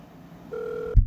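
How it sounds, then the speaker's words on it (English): A single short electronic telephone tone sounds clearly and steadily for about half a second, then cuts off with a low thump. "Come on, pick up the damn phone."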